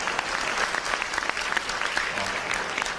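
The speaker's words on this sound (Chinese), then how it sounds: "可以掌声鼓励一下。" An audience at a business talk applauds, a sustained, fairly even crackle of many hands clapping at moderate distance.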